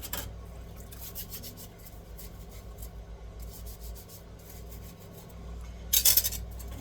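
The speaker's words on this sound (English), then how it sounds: "So I go ahead and put my knives in there too" Butter knives and steak knives scrape and clink against each other in a sink of dishwater, a close, soft run of rubbing metal with a brief louder clatter near the end.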